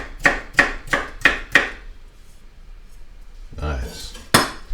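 Knife cutting potato on a board, five quick sharp chops in an even rhythm, then a pause, a rustling scrape and one last louder chop, all close and clear with no voices.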